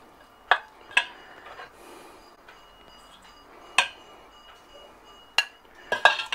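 Metal utensil clinks and scrapes as food is stirred in a pan at a backyard BBQ beside a Char-Griller Gravity 980 grill, several sharp isolated clanks spread over quiet pauses.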